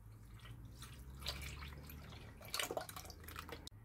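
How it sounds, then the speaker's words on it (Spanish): Cooking cream being poured into a bowl for a no-bake Christmas dessert, a faint, soft liquid trickle with light splashy dribbles, close and quiet with no talking. "Vierto la nata."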